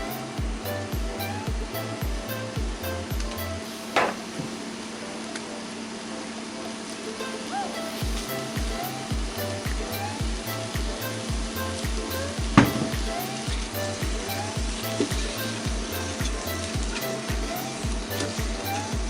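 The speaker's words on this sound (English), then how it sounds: "you want to let these saute for about 7 to 10 minutes" Onions and bell peppers sauté in a pan for vegetarian chili, making a steady soft sizzle that runs through the whole stretch, with a few sharp clinks and a rhythmic low hum underneath.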